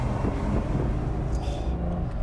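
A deep, steady Aston Martin DB7 GT sports car engine rumble idles close by, holding a low throaty drone with no distinct revs or voices.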